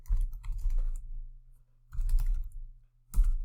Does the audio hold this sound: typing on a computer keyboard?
yes